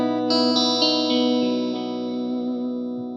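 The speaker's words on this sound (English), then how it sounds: "the mids have been well scooped out here with the treble and the bass boosted." An electric guitar played through a Marshall DSL1CR amplifier with mids scooped and treble and bass boosted: a few strummed chords ringing out with wide, bright sustain and effects-laden tone, close and loud with no talk.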